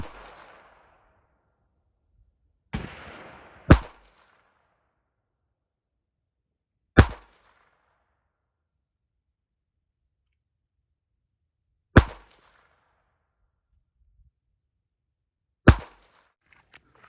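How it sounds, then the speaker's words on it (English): Five sharp, loud shots from a Ruger Mark IV Hunter pistol firing CCI Blazer rounds, spaced irregularly a few seconds apart with near silence between them. "I'm gonna shoot these and see how these group."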